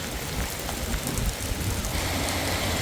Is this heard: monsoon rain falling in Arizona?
yes